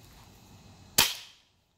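A single sharp crack from an airgun SKS replica fired at point blank range, close and loud, with a brief fading tail after quiet room tone.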